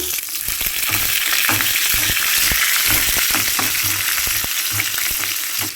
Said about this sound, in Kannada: ಇಷ್ಟು ಬೆಳ್ಳುಳ್ಳಿ ಜಜ್ಜಿರೋದು ಒಗ್ಗರಣೆಗೆ ಹಾಕ್ತಾ ಇದ್ದೀನಿ